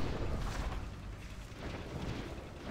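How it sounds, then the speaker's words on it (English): A frost bomb detonating in a World of Warcraft Ulduar raid fight: a dense, muffled game explosion rumbling as a broad burst, fairly quiet and blended with surrounding game effects. "Frost bomb."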